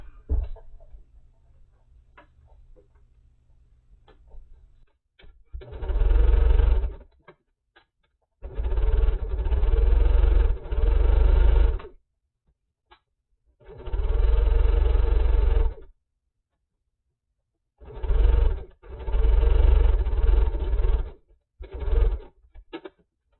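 A sewing machine stitches pieced quilt tree blocks in loud, steady motor bursts of a few seconds each. Short quiet pauses fall between the runs, the sound is close, and no one speaks.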